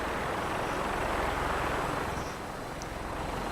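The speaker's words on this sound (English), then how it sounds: "Just a random swarm of helicopters comes out of nowhere." A dense, steady rotor drone fills the air, a continuous whirring rumble of several helicopters hovering nearby in a video game, loud and unbroken.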